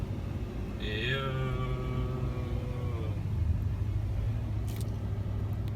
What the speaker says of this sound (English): It's one of them new Shelbys.